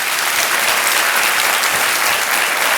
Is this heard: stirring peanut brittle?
no